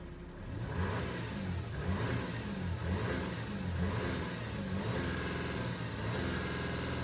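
A car engine revs steadily in neutral, held near a ceiling of about 3000 rpm, a sustained mid-pitched drone with slight rises and dips that runs loud and continuous throughout, with no voices.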